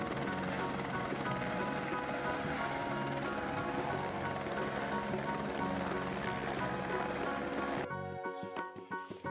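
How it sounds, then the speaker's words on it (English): A loud, steady helicopter roar with dense rotor and engine noise fills the scene, then cuts off abruptly near the end. "H for helicopter."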